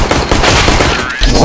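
Loud, dense gunfire fills a round of Counter-Strike: Global Offensive, rapid shots overlapping into a near-continuous rattling burst with a heavy bang near the end, close and dominant with no talk.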